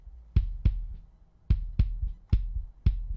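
A kick drum compressed at a 2 to 1 ratio plays alone in a sparse pattern of punchy, deep, low thumps, heard in pairs and singles with clean decays between.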